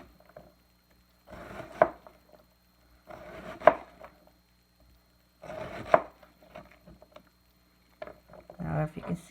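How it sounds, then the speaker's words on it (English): A knife makes vertical cuts through an onion on a board, with three distinct bursts of rapid chopping separated by pauses and a last flurry at the end, fairly close and crisp. "I'm going to now make a vertical cut against my other cuts"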